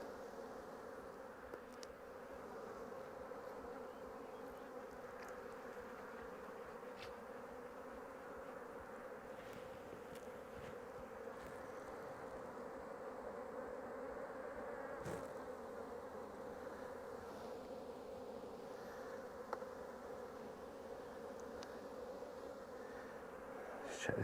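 Honey bees swarm around an open hive at an orchard apiary, their dense, steady buzz filling the air up close without a break for the full stretch, with no voices over it.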